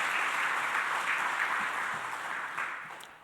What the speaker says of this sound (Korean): 다시 한번 우리 박수로 같이